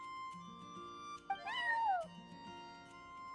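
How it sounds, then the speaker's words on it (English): A cat in the video game Genshin Impact gives one clear, drawn-out meow in the middle, close and alone over a soft, quiet musical background. "I'm sorry, that's my neighbor's cat."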